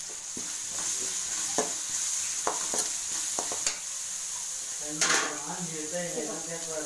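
Onions, curry leaves and coriander fry in a pan, a steady sizzle broken by sharp clinks and scrapes of stirring, with a person talking near the end.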